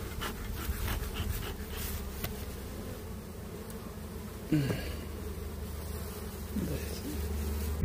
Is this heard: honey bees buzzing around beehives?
yes